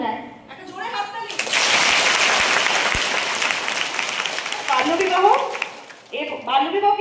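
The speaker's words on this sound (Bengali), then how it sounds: "একটা জোরে হাততালি।" A group of schoolchildren clapping loudly for a classmate, a dense burst of applause lasting several seconds between stretches of an adult talking.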